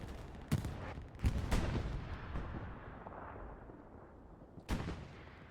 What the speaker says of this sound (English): Interesting choice in bombing run.